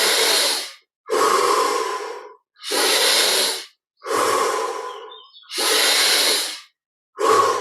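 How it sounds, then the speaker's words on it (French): Slow, deep guided breaths during a meditation session, each long airy inhale or exhale lasting about a second or two, separated by short silences, close and clear with no talking. "On peut aller encore un peu plus loin dans l'inspire et l'expire."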